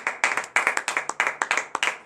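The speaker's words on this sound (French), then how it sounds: "Donnez de vives acclamations à notre Seigneur Jésus." A church congregation at a morning prayer service in Benin claps in a quick, uneven rhythm, sharp near hand-claps stacking into a burst of applause with faint voices mixed in.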